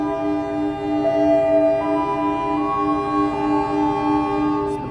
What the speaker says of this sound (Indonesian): Malioboro Express baru berangkat dari stasiun Malang